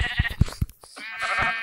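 Minecraft sheep bleat in a couple of close, clear wavering calls, separated by short thumps and a brief pause.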